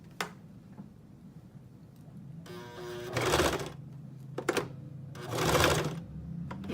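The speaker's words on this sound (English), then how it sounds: "We're gonna slide it through here in the sewing machine here." A sewing machine stitches fabric for a scrunchie in two short bursts of rapid mechanical rattling, close and fairly loud, separated by quiet pauses with small clicks of the needle and clamp.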